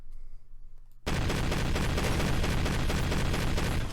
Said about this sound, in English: Slot 6 is the Azazel Magic Autocannon.